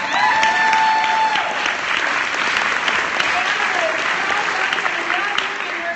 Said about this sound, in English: We're going to clap anyways.